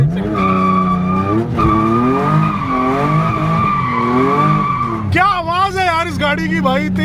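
A sports car engine in a McLaren 720S Spyder versus Porsche GT3 RS drag race setting roars loudly up and down through revs, with a harsh rising burst near the end; tire squeal mixes in, and people talk over it.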